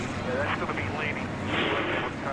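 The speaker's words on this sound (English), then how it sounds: "Engine's fired up and the field is rolling off." Stock car engines roar steadily in a sim racing game at Gateway as the field rolls off, a dense continuous drone mixed with a commentator talking over it.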